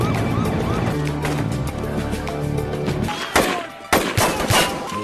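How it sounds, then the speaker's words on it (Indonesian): Gunfire from a shootout between police and drug cartel members trying to break through a border fence: several sharp, loud cracks burst out in the second half, following a dense wash of music and wailing tones with no talking. "pergi ke lokasi yang sedang terjadi baku tembak antara pihak kepolisian dengan anggota kartel narkoba"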